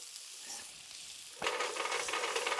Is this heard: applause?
no